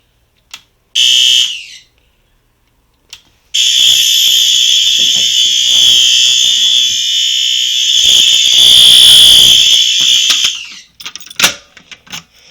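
A loud, piercing alarm siren blares continuously for several seconds after a brief initial burst, with clicks and rustling before and after.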